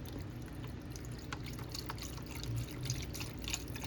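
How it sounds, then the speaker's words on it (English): Unsalted bone broth, a 32-ounce carton, pours into a cooking pot in a soft, steady liquid stream with faint splashing, close and quiet with no talk. "you're going to pour this 32 ounce of bone broth, unsalted,"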